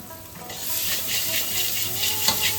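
Asafoetida is added to a dal tempering frying in a pan, with a steady close sizzle and bubbling hiss, lightly stirred with soft scraping throughout.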